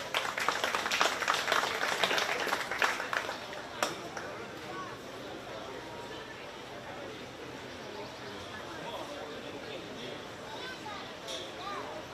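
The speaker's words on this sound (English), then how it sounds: "Let's give her a big round of applause" Audience at a county fair 4-H sheep and goat livestock show claps loudly in a dense burst of applause for a few seconds, then fades into steady crowd murmur and arena noise.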